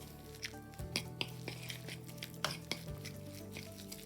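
Chicken meatball mixture with flour, ginger and onion being stirred in a bowl, with soft wet mixing sounds and a few light utensil taps against the dish, close by and without speech.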